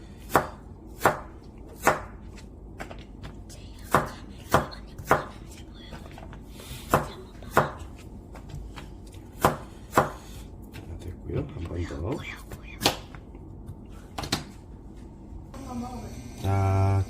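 Knife chopping sweet potato into long sticks on a cutting board, with a steady series of sharp thuds spaced about a second apart, close and clear, then a brief sizzle near the end.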